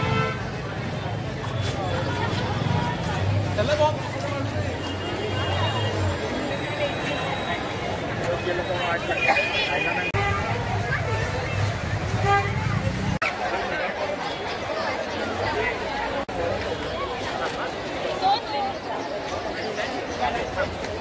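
Crowd hubbub at the Girgaon Gudi Padwa procession in 2024, with dense chatter and babble and occasional horn toots, continuous and close around a person who talks over it.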